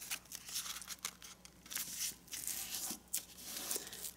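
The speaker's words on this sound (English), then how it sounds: "You take this corner and fold up to the top and turn over right to left, and let's fold this corner to the top." Paper being folded by hand for a 3-D origami jack-o-lantern, giving soft crinkling and rustling bursts that come and go at close range.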